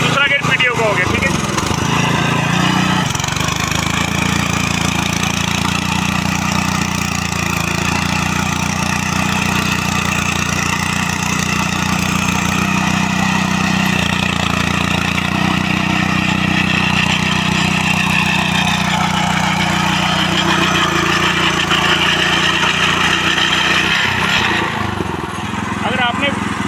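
A power tiller engine drives a rear rotavator with its PTO in second gear, running at a steady loud drone throughout with a brief shift in pitch early on.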